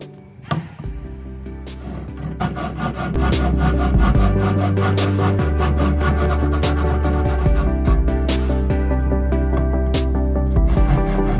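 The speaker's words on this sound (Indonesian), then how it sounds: "Dan untuk garis ini kita gergaji memakai gergaji kayu atau gergaji besi ya." A hand saw rasps steadily through wood in fast, repeated back-and-forth strokes, close and loud, running continuously with no talking.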